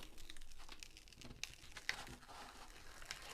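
A protective film is peeled back from a diamond painting canvas, close and quiet, giving soft crinkling and tearing rustles with a couple of sharper little snaps along the way.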